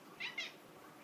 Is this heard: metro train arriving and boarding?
no